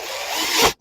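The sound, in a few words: power drill driving a screw into a foot pedal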